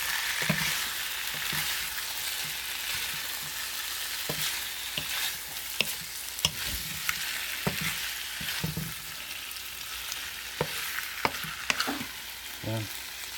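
Bicolano fish paksiw sizzles in a cooking pan while being stirred, a steady frying hiss punctuated by repeated sharp clanks and scrapes of the utensil against the pan, close and without speech.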